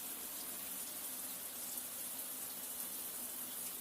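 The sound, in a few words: wine streaming through a Coravin aerator shower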